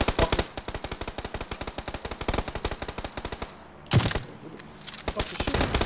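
Rapid automatic gunfire in PUBG, long dense bursts of evenly spaced shots with a brief pause and a louder blast near the end, close and loud, no talking.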